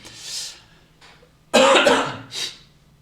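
A breathy throat sound, then one loud, sharp cough close up, followed by a softer exhale.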